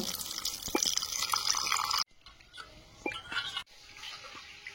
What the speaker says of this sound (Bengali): মুসুরির ডালটা ধুয়ে নেব।